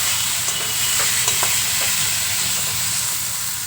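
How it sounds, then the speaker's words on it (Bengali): Fried potatoes are stir-fried with spice paste in a pan for a fish roe curry, a loud, constant close sizzle with faint intermittent scrapes of a stirring utensil. "আলুটা মশলার মধ্যে দেওয়ার পর আলুর সাথে মশলাটা খুব ভালো করে কষিয়ে নেবো"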